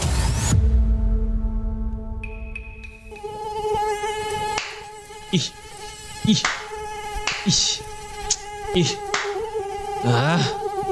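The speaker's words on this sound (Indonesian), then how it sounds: "Banyak banget ya nyamuknya di sini." Mosquitoes buzzing nearby, a loud continuous high whine with shifting pitch, overlaid by intermittent thumps and swatting-like hits.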